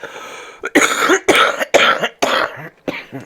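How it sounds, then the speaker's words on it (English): A string of loud, close coughs, about five harsh bursts with short pauses between them, no talking. "Still have a bit of a cough."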